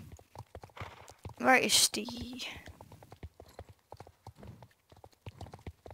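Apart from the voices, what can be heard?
horse hooves clip-clopping in video game Star Stable Online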